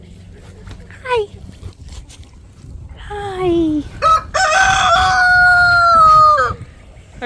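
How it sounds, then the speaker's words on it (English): A rooster crows loudly and nearby in a long, drawn-out call, preceded by a brief spoken greeting and some faint clucking. "Our rooster's free."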